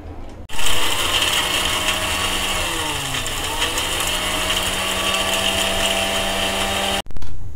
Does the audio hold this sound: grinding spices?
yes